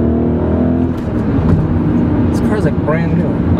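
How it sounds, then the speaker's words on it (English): A BMW E39 M5 engine revs on a downshift, a loud, continuous close-up growl with a rising and falling pitch, while someone talks over it. "Listen to just that downshift."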